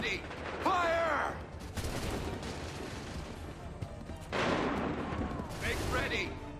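Musket volleys from a firing line crack out in Assassin's Creed 3, with loud bursts of gunfire between stretches of shouted commands.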